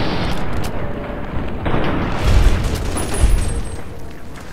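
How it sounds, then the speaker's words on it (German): Bombs go off in the video game Fallout New Vegas as heavy, rumbling booms, with two deeper thuds standing out over a continuous loud, noisy game soundscape. "Aber man hört die Bombe, die."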